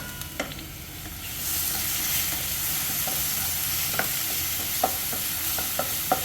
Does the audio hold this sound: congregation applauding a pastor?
no